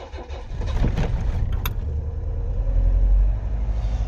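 An Austin Allegro with the choke pulled out cranks and starts, settling into a low, close-up idle rumble that grows slightly louder, no talking.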